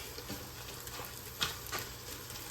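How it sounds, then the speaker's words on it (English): Vegetables sautéing in a pot for a ground beef stew give a soft, steady sizzle with occasional stirring scrapes, faint and continuous. "I'm gonna saute it for a minute."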